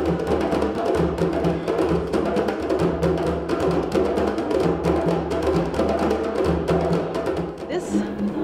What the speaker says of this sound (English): we have Mamadou doing some drumming, and you can probably hear that in the background